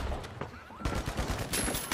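A frag grenade explodes in the game The Finals, a loud blast followed by rapid crackling gunfire-like bursts and debris clatter, close and busy throughout.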